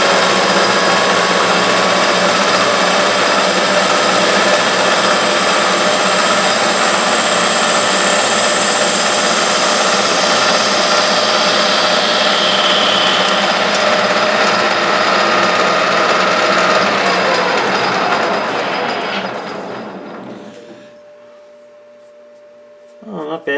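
A metal lathe takes a 55-thousandths roughing cut, giving a loud, steady whirring and grinding drone with a high cutting whine for about twenty seconds before it winds down to near silence.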